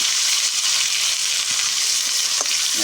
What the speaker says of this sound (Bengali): আর একটু রসুন বাটা দিয়ে দিলাম এইটাকে মাঝখানটা যাতে ভেজে নেব